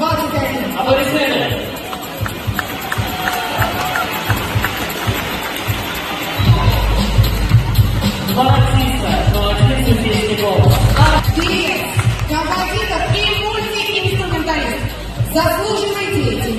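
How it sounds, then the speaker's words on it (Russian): A large concert crowd at the 2021 New Wave international competition of young pop performers keeps up a continuous wash of applause, like heavy rain, with music and voices running underneath throughout. "Аплодисменты"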